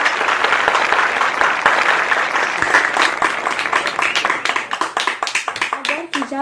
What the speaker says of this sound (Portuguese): Que as palmas louvem ao Senhor Jesus.